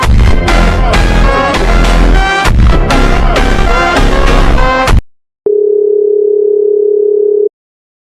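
Loud busy music cuts off abruptly, then after a short gap a steady single-pitched electronic tone sounds for about two seconds, a phone call that fails to connect.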